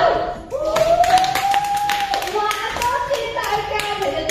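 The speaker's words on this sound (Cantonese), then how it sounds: "然後拍手" Hands clap in a few quick, uneven bursts among a group of children and adults at a panda viewing area in Ocean Park, heard close and mixed with chatter and an adult voice speaking throughout.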